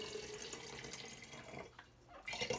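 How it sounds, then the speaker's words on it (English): Water poured into a jar as a model atmosphere for a precipitation demonstration, a steady close splashing and trickling that dips briefly near the end before pouring resumes, with no talking. "pour some water into your jar"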